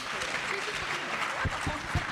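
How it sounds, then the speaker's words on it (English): An audience claps loudly at a startup pitch night, a short burst of continuous applause with some crowd murmur mixed in. "Let's give them all one big loud applause."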